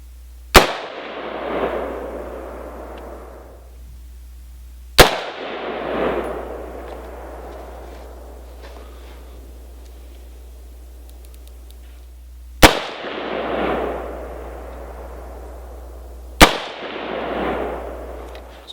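Rifle shots fired at a distant target through a magnified red dot sight, four sharp loud cracks spaced several seconds apart, each followed by a rolling outdoor echo that decays slowly, with a low steady hum underneath.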